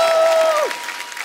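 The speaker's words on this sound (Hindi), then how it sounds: "अक्षय बाजी और परिणीति के लिए जोरदार तालियां हो जाए" A studio audience at a comedy talk show breaks into loud applause, a dense wash of clapping that starts full and slowly thins, with a held musical tone fading out beneath it.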